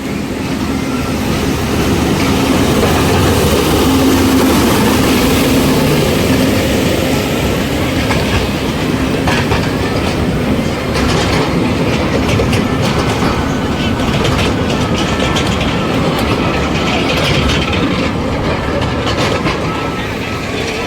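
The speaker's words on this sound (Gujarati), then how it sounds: "તો મિત્રો ટ્રેન આવી ગઈ છે" A train pulls in at Kankaria Lake in Ahmedabad, its steady rumble and clickety-clack of wheels filling the whole stretch at close range, loud and continuous, with faint voices murmuring underneath.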